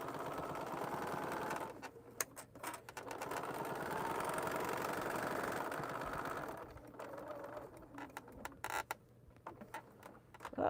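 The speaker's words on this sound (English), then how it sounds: "if it's not tight, I can edge stitch around it" A sewing machine edge stitching around a fabric checkbook cover runs in a steady, close mechanical hum for about six seconds, then breaks into scattered clicks and short bursts of stitching.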